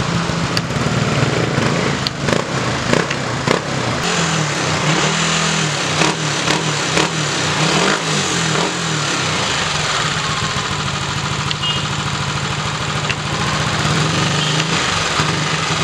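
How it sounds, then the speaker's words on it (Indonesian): A CVT scooter engine runs steadily close by, alternating between a settled idle and several short throttle blips that rise and fall across the whole clip, with no talking over it. "Gas normal, nggak ada suara-suara aneh-aneh dari bagian sini."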